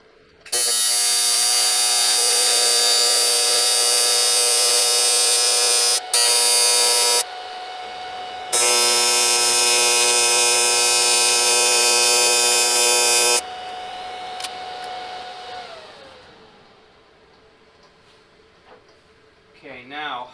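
A welder tack-welds bearing carriers onto the axles of a small Model S-style chassis. It gives a loud, harsh, sustained electric buzz in a long burst, a short one and then another long one, before fading to quiet.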